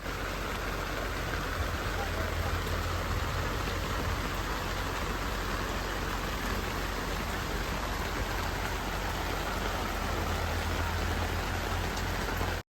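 Heavy rain falls steadily, a dense continuous hiss of drops drumming on nearby surfaces, loud and unbroken throughout.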